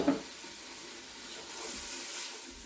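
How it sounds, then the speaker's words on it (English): Onions sizzling in a pot as pea soup gets started, a soft steady hiss after a brief clatter as they drop in, close but quiet. "I'm just gonna now dump in the onions."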